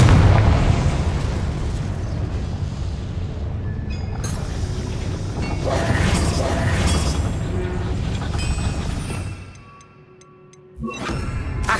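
Confringo spell blasts in the video game Hogwarts Legacy boom through a dense, rumbling battle din, with bright crackling impacts, a sudden drop to near silence, then a sharp burst of noise returning.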